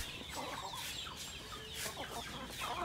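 A flock of chickens with chicks clucking and chattering before feeding, overlapping short clucks and peeps in an irregular stream, soft and somewhat distant with no talking.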